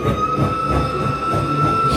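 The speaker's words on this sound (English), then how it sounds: "Oh, the train's coming. The train's coming." A steam train approaches in a historic Wild West mining town, a loud continuous rumble and rattle with a sustained whistle-like tone running throughout, close and steady.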